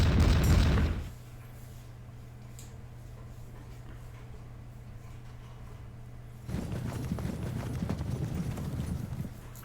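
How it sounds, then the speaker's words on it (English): Cavalry horses gallop in an English Civil War battle game at Bristol, a steady drumming clip-clop of hooves under a low hum, with a louder burst of battle noise at the start and again in the final seconds. "And now it looks like their cavalry is finally advancing."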